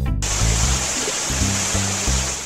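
In a Rescue Bots cartoon, a hose sprays water onto a burning garage. A loud, steady rushing hiss continues throughout, beneath low pulsing tones and a brief voice.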